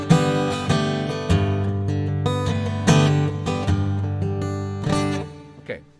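Acoustic guitar piezo signal shaped by a tone match filter in a Fractal Axe FX3, a close, full-bodied strummed chord pattern with rhythmic attacks and ringing sustain, played alone.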